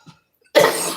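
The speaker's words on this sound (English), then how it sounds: "excuse me for the coughing" A woman gives a single loud, close cough after a brief faint sound and a moment of silence.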